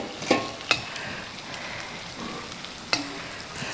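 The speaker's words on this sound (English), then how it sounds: "Add the prawns and let's fry it." Prawns fry in moderately hot oil with a steady, soft sizzle throughout, broken by a few sharp clinks of a utensil against the pan.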